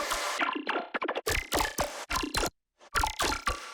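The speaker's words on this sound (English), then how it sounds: "Another element that gives us a lot of interesting texture is chopping up these little texture jams that I made, and that sounds like this." Chopped-up synth texture jams from a bass music production stutter in short, wet, squelchy bursts with abrupt cuts and a brief silent gap, loud and up front with no voice.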